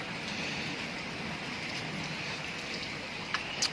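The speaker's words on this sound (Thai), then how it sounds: "ติดฝนนิดหน่อย" Steady rain falls outdoors at a fishing spot as a dense, continuous hiss, loud and unbroken throughout with no voices.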